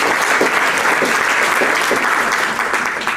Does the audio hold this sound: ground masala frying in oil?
no